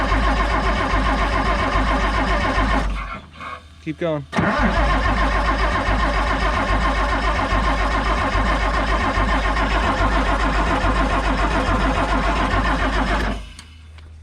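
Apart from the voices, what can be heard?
engine of a Pettibone crane being cranked and started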